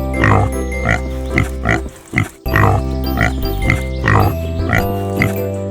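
Cartoon pigs in a 3D children's multiplication animation oink in a steady run of short grunting calls, several in a row, over a constant background music bed with a brief dip partway through.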